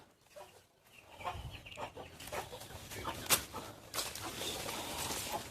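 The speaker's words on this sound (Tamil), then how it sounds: "பின்னாடி எது கோழிங்க இருக்கா?" Chickens cluck and murmur in an irregular, ongoing stream, fairly near but not loud, with a few sharper calls standing out.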